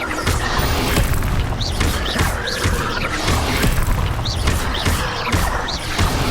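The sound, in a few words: Incendio fire spell exploding in Hogwarts Legacy video game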